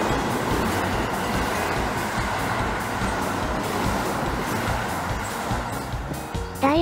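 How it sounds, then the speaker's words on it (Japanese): A Keio Line train rumbles past steadily at close range, a dense rolling mechanical roar that holds for several seconds before a brief high tone near the end. "次は、ヘッドマーク付きの電車が来たので"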